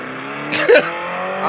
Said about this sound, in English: Just some kids drag racing outside, I think, Mom.